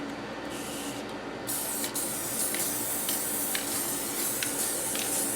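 A spray can hisses onto printed paper patterns in long continuous bursts with short breaks, close and fairly loud, with a faint background hum.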